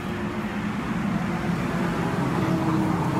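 A truck rolls past outdoors, a steady broad rumble of engine and road noise that holds at a fairly loud level throughout, with no speech over it.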